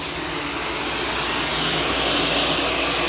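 A Shark self-cleaning vacuum cleaner runs steadily up close, its motor and spinning brush roll giving a loud, even whir that holds throughout with no talk.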